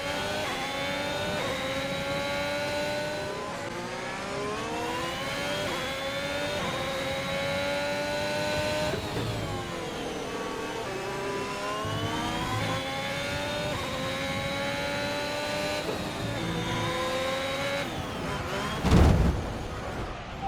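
F1 race car engine in the F1 2021 video game at the Spanish Grand Prix, the car suffering an engine issue: a continuous high revving whine rising and falling through gear changes, ending in a sharp impact-like burst near the end.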